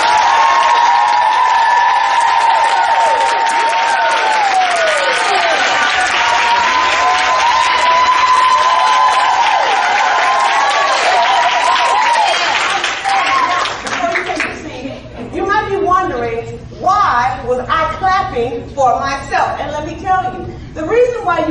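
An audience at a talk claps for itself, a dense, loud wave of applause that fades into scattered claps, chuckles and voices.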